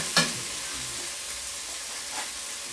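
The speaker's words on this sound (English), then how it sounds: "as they brown, I have to keep turning them so that they brown evenly" Onions browning in a pan for a beef dish, sizzling steadily up close, with a sharp scrape of a utensil turning them at the start and a softer stir later.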